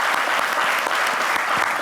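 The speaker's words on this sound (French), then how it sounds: "Applaudissez-le bien fort, s'il vous plaît, les amis." A studio audience on a French-language TV variety show claps for an arriving guest, dense continuous applause at an even, lively intensity throughout.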